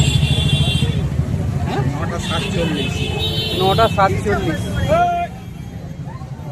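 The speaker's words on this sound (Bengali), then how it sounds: "দেখতে পাচ্ছ কত ভিড় রয়েছে" Dense crowd babble fills a busy Bankra bazaar at night during Eid, with traffic noise and passing vehicles underneath and someone talking close over the din throughout.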